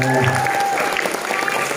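Audience applause at a school extracurricular inauguration talk show, a steady wash of clapping for under two seconds with voices mixed in over it.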